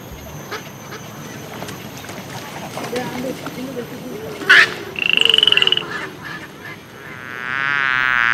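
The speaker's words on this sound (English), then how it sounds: "A frog uses its tongue to catch insects." A frog croaks in repeated throaty bursts over a busy outdoor background, with a louder rasping call midway and a sustained warbling chorus near the end.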